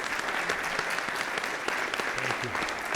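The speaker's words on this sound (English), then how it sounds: "let's give him a final round of applause" An audience gives steady, continuous applause for a speaker after a talk on handling stress and crisis, a dense even patter of many hands at moderate volume with faint voices underneath.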